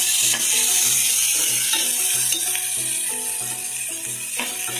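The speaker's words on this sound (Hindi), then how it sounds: "अब इसके अंदर मैं ये प्याज डाल दूँ। अब इसको मिक्स कर लेते हैं।" Chopped onions with ground ginger sizzle in a hot pan while a spoon stirs them, producing repeated close metallic scrapes and clinks over a steady frying hiss.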